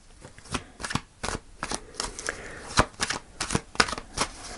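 Tarot cards are shuffled and pulled by hand at close range, giving a string of crisp riffling flicks and slaps in an uneven rhythm with no talking.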